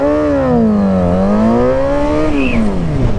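A car speeding across a street intersection in a race, its loud, close engine revving with pitch climbing, dipping and surging again, alone without talk.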